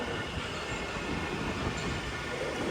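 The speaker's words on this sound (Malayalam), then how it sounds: "ഇത് നമുക്ക് പോകാനുള്ള മെട്രോ വന്നിരിക്കുകയാണ്" A Hyderabad metro train pulls into a platform at Ameerpet station with a loud, continuous rumble and wheel roar that fills the whole clip, close by and steady.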